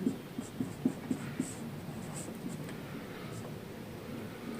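A pen scratches across paper as someone writes by hand: quiet, close strokes with a run of short taps at first, then continuous faint scribbling.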